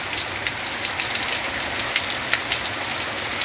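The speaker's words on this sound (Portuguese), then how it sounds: "Muita chuva, viu? Neste momento." Heavy rain pours steadily in the town of Joaquim Gomes, Alagoas, a dense, continuous hiss of drops striking surfaces close by, loud and unbroken with no voices.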